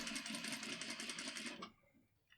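A home sewing machine runs at a steady speed, stitching through several layers of fabric with a fast, even mechanical whir close by, then stops abruptly with a few faint clicks afterward.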